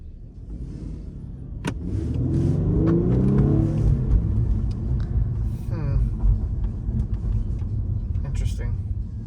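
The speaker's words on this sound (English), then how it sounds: "I just tried to floor the car, and it didn't like it." A Mercedes car engine revs hard under full throttle, its rising drone swelling then sagging as traction control cuts in, heard from inside the cabin with road rumble and occasional clicks and voices.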